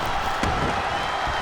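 Crowd noise from a WWE 2K SmackDown wrestling match, a steady broadband roar of cheering fans filling the arena, with a brief louder swell early on, continuous and fairly loud throughout.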